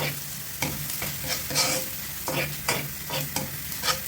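Sliced onions sizzle and fry in a hot pan with browning garlic for pancit canton guisado, a spatula stirring in repeated scraping strokes over a steady crackle, close and clear with no talking.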